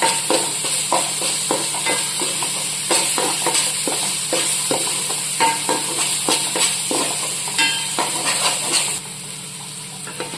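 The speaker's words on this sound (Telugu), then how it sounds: "అల్లం పేస్ట్ కూడా మంచిగా ఫ్రై అయింది కదండి." Ginger paste frying in a pan for a fish curry, with a continuous sizzle broken by frequent scraping stirs of a spoon against the pan. The sound is close, fairly loud and without speech.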